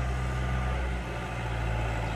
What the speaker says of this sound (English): it's the tractor coming in with my hot husband.